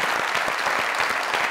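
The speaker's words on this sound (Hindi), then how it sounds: "जोरदार तालियां" A studio audience at a comedy talk show breaks into loud, dense applause, a continuous wash of many hands clapping throughout.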